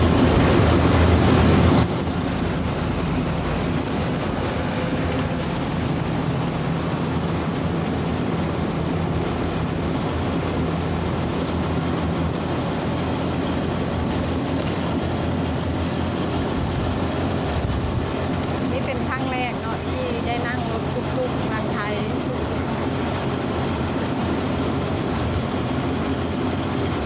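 Riding in a tuk-tuk in Thailand, a continuous loud rumble and rattle of the vehicle and wind, with bumps as it crosses railway tracks, lasting throughout.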